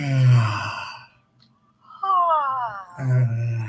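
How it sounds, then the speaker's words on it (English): A person yawns aloud during a voice warm-up, a drawn-out voiced sigh that rises then falls, with breathy moaning sounds before and after, close and clear. "And now I want you to yawn."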